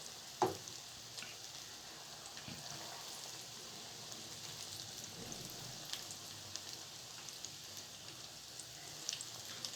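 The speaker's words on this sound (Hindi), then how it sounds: "अब हम पकौड़ा फ्राई कर लेंगे।" Potato pakoras deep frying in hot ghee in a kadai give a continuous soft bubbling hiss, fairly faint and even, with an occasional light tap near the start.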